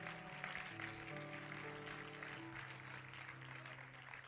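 A church congregation claps in praise over sustained music; the clapping blends into a continuous wash beneath the steady held tones.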